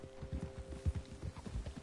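Hooves of a big stallion in a video game clip-clop in a quick, uneven rhythm, fairly close and soft, with no other sounds around.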